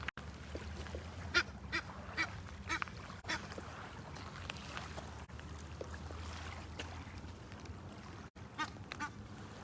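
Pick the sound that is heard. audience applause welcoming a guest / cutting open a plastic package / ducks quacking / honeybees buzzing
ducks quacking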